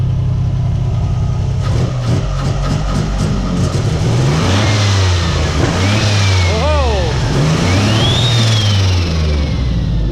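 A Nissan 300ZX Z31 engine, fitted with old injectors, cranks and catches from cold, then revs in several loud close blips and settles into a rough idle. A faint flutter appears after some blips.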